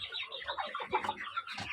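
Chickens and newly hatched chicks fill a coop with soft overlapping clucks and thin high peeps, close and continuous over a quiet background.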